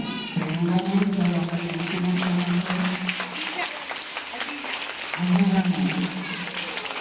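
A school audience applauds its teachers at a ceremony honouring young students and their teachers, dense clapping running nearly throughout while a voice carries on over the top.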